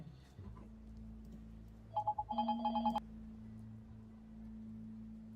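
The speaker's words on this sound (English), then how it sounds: "I'm getting a phone call." An incoming phone call rings as a bright, repeated electronic ringtone lasting about a second, loud and clear over a steady low hum in a quiet room.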